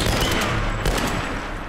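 Dense gunfire rattles in the video game Tomb Raider, a loud, continuous burst of rapid shots with heavy low booms, close and unbroken for the whole moment.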